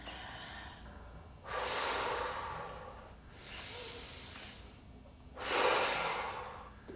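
Slow, deep breaths drawn in and pushed out during a stretching and light exercise routine, three loud breathy bursts of air separated by quieter pauses, heard close up with no talking.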